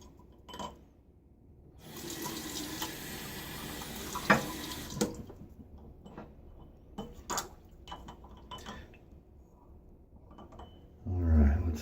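Water runs from a tap into a sink for a shave, making a steady rush for a few seconds, then gives way to quieter clinks and handling noises.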